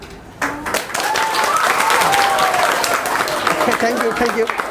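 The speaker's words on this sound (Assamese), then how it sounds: "যদি পানী নপৰে তোমালোকে হাত চাপৰি দিবাচোন" Classroom audience applause after a water glass surface tension demonstration, steady clapping that swells quickly and holds throughout, with voices and a tonal whistle-like call mixed in.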